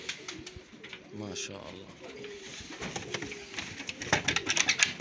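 Domestic pigeons kept as tumbler and racing stock coo in a loft, soft repeated throaty calls close by while someone talks over them.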